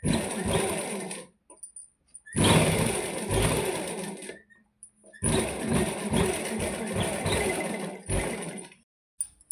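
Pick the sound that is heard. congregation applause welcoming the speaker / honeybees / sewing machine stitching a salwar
sewing machine stitching a salwar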